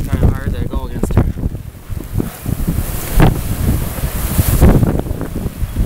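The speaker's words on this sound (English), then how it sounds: "Winds are easy in the 50-mile-an-hour range right now." Strong blizzard wind at about 50 miles an hour roars and buffets the microphone continuously, rising in gusts, with a person talking over it at times.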